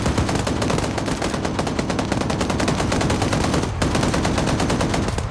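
A gunner fires a machine gun during a competitive multiplayer video game match: loud, sustained rapid automatic fire runs nearly unbroken through the clip, dense and close, with no voices.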